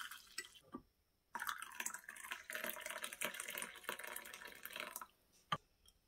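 Ginger tea poured into a cup: a few faint drips, then a continuous splashing pour for about four seconds, close by, followed by a couple of small drips as it stops.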